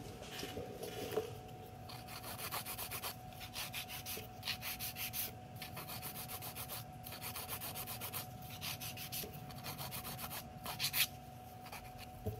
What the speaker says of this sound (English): What's the name of that drill bit? It called safety bit.